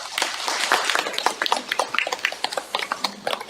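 A church congregation claps in welcome, a fast, dense patter of many hands that gradually thins into scattered, fading claps.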